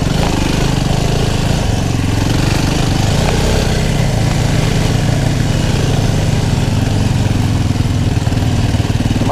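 A motorcycle engine runs loud and close with a steady, rumbling drone that holds unchanged the whole time, with no voices over it.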